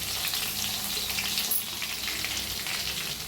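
Cumin seeds and crushed garlic hiss and crackle in hot oil, a steady close sizzle filling the whole moment with no voices.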